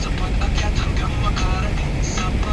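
A boat engine runs steadily while the boat moves through deep water off Malabon, a continuous low rumble with broadband wash close by, and a voice talks over it.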